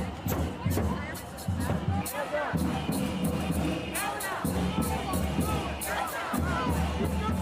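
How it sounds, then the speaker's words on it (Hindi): Thousands of protesters at an anti-Israel rally in New York, a loud street crowd shouting and chanting with scattered cries and clatter, voices overlapping throughout. "न्यूयॉर्क से, जहां एंटी इजराइल रैली में जमकर बवाल हुआ और रैली में हजारों लोग जमा हुए"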